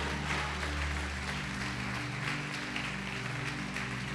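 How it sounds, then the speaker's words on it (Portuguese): A church congregation applauding in a large hall, a steady, soft wash of clapping that sits at a distance under a faint electrical hum, with no speech. "Você pode aplaudir o Senhor Jesus por isto?"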